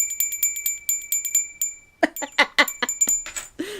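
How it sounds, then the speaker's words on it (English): A rapid series of bright bell dings, many quick strikes in a row, turning into clattering rings near the end with no voices. "don't forget to boop that bell"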